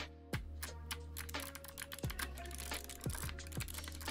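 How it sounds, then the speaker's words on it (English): Brisk, close typing on a Mill-Max hotswap mechanical keyboard fitted with clicky switches: rapid sharp clicks in an uneven rhythm, with a few louder keystrokes standing out and no talking. "I just start clicking on the keyboard for no reason."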